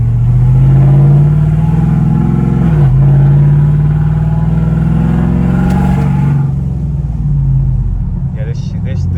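Modded race truck with a Cam 5.3 V8 driving and revving on a street, a loud, close engine drone with a dip in pitch around three seconds, running steadily before easing off near the end.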